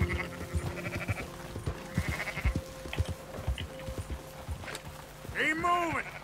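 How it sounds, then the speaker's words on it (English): Sheep bleating and hooves clip-clopping from Red Dead Redemption 2, while a voice calls out over the flock's steady footfalls and a rising bleat at the end. "Come on, sheep."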